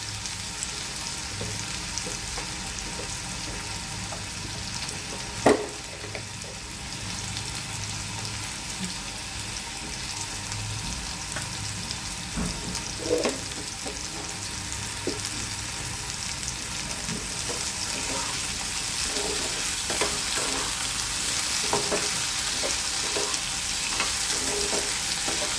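Potatoes fry lightly with salt in a pan, giving a constant soft sizzle with occasional stirring clinks across a long, steady stretch.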